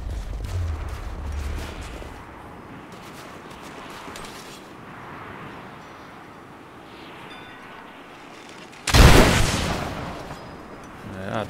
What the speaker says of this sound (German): Naja, da explodieren sie nur.